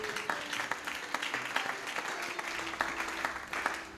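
A church congregation applauds, many hands clapping in a dense, lively patter that holds steady from start to finish with no speech on top.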